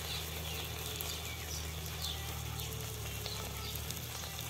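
Crab sizzles in a hot pan with onion and garlic masala, giving a soft, steady frying crackle that stays faint and constant with no talk.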